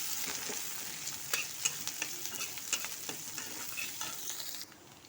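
Onions frying in a pan with bay leaf, cardamom, cloves and cinnamon, a steady close sizzle broken by scraping stirs and light spatula knocks, no voices.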